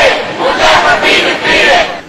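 Hundreds of students marching down a Toronto street over tuition fees shout in loud rhythmic bursts, rising and falling in roughly three chant-like waves, close and overpowering.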